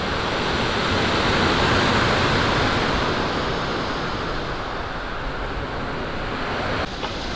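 Waves wash steadily onto Livadi Beach on the Albanian coast, a loud, unbroken roar of surf with wind rumble across the microphone and no voices.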